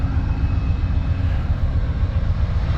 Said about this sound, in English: Locomotive. P42 DC, made by General Electric.